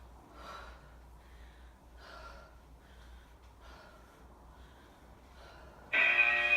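During a home fat-loss workout, a person breathes heavily in a steady rhythm of about five forceful gasping breaths, close and fairly quiet, followed by a sudden loud burst of noise at the end.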